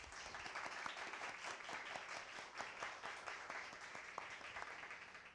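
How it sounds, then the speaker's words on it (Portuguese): An audience applauds two professors at a lecture on tax law, a steady, dense patter of many hands clapping at a moderate distance, sustained throughout without pause. "Quero que todos vocês recebam ambos com uma salva de palmas"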